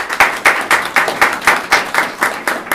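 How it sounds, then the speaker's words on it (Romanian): An audience applauds guests at a book talk on conservatism, about ten evenly spaced claps in a steady rhythm, close and loud, with no speech. "haideți să-i aplaudăm pe invitații noștri și să le mulțumim"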